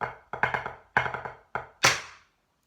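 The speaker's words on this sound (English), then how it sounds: "we would play kind of these 9-lit figures" A drum corps snare plays rapid nine-let figures in place of diddles, quick clustered bursts of strokes in short groups separated by brief gaps, ending on a louder accent, close and alone.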